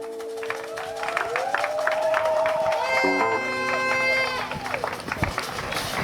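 A church congregation cheers, shouts and applauds for the King of Kings at a revival meeting, with a steady crowd roar throughout and rising voices and cries over the clapping.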